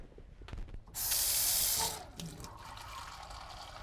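Water runs from a kitchen tap into a container for a vegan salad dressing: a strong, hissing gush for about a second after some clinks, then a softer trickle and kitchen handling sounds.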